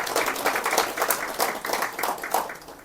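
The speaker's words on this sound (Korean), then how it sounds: "건강하게 박수 드리겠습니다" Audience applause in a Korean church Sunday service, honoring a recovered member; steady clapping from a room of people for about three seconds, moderately loud and dense without voices.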